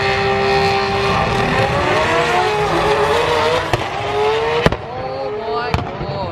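A Nissan GT-R at a GT-R festival, its engine loud and near as it spools up and accelerates hard, a rising turbo whine over the roar, with sharp cracks near the end and voices talking over it.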